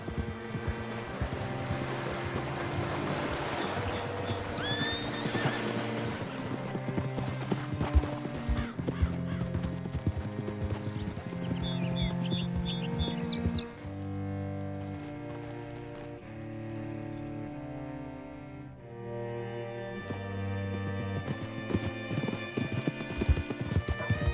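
In Red Dead Redemption 2 on Xbox Series S, a horse's hooves clip-clop steadily at a walk and the horse whinnies, all under a continuous orchestral game score.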